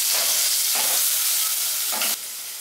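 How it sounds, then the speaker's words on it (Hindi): Chopped potatoes with turmeric fry in oil over a medium flame, a dense, close hiss of sizzling with brief stirring surges that drops slightly in level near the end, with no speech. "अभी जब तक ये आलू लाइट ब्राउन नहीं हो जाता है तब तक हम इसे मीडियम फ्लेम में फ्राई होने देंगे"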